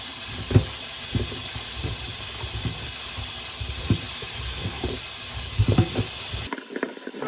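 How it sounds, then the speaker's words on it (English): Hominy in salty brine is rinsed under a running tap, a steady broad hiss of water with small splashes and knocks as it is handled, cutting off abruptly near the end. "So we're gonna have to rinse the hominy because it's in a brine and it's really salty."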